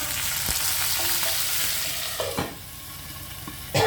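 Whole dried red chillies and curry leaves frying in hot oil for an Andhra-style curry, a steady loud sizzle filling the background with a few brief stirring clatters and a short drop in intensity near the end.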